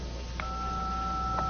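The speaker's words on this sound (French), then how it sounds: "C'est le téléphone." A telephone in an indoor setting sounds a steady, moderately loud electronic ring made of two sustained tones, with short brighter blips near the start and end.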